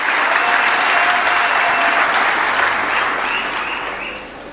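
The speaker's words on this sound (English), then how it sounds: "and you can applaud yourself." A large audience at a G20 social summit held in South Africa breaks into loud, dense applause that holds strong and then gradually fades toward the end.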